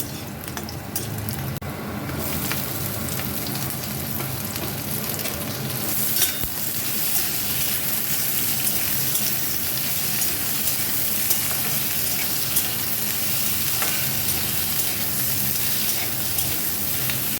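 Onions and potatoes fry in hot oil for aloo posto, giving a steady, dense sizzle that runs unbroken throughout with occasional soft stirring clatter, close and fairly loud.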